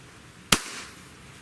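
One sharp pop from a Beeman 2027 multi-shot PCP air pistol firing a pellet, close and loud, decaying quickly into quiet.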